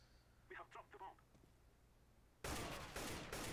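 Burst of gunfire in the shooter game CS:GO, loud rapid shots from about midway on after a stretch of quiet with faint short voice sounds.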